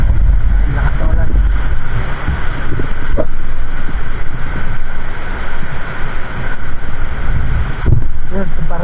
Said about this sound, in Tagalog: Malakas biglang buhos, tapos malakas yung hangin.